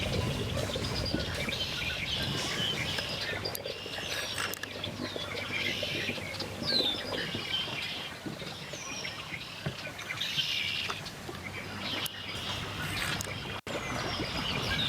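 Red-winged blackbirds sing repeatedly near a boat dock on the Sabine River during a bass fishing tournament, their chirps and trills scattered over a steady outdoor wash of water and background noise, with no talking.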